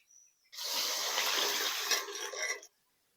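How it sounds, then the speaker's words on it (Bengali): Boiled kabuli chickpeas with their cooking water poured into a pan of curd-coated masala with separated oil, a steady liquid gush lasting about two seconds and then cutting off abruptly, close and fairly loud. "এবার আমি কাবলি ছোলাটা ঢেলে দেবো"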